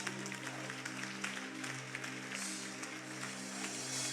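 Steady, dense applause from a congregation at a prophetic meeting in a church hall, sustained for several seconds over a low electronic hum.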